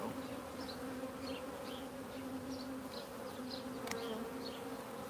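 Honeybees buzz steadily and close around a hive during a honey harvest, a low continuous drone with individual bees whining past, fairly quiet and without speech.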